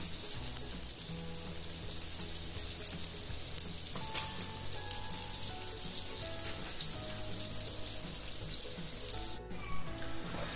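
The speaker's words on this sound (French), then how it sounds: "commencer la friture de vos beignets" Steady bright sizzle of twisted beignets frying in hot oil, continuous and close, with faint clinks and utensil sounds underneath; no talking.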